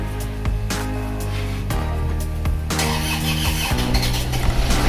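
An Isuzu Panther diesel engine, burning oil and struggling on a cold first start, cranks on its starter with a loud, continuous whirring squeal and uneven grinding pulses, close and steady throughout.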